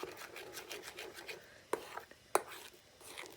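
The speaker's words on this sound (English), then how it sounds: "So again, I'm scraping and stirring." Pumpkin chiffon pie filling scraped and stirred in a pot: soft, raspy strokes of a utensil going back and forth, with two sharper knocks against the pot, faint and close.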